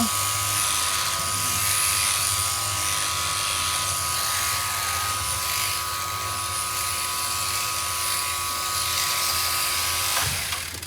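Electric clippers shear a sheep's thick wool fleece at a barn ahead of lambing season, a steady close motor buzz running unbroken for about ten seconds before cutting off near the end.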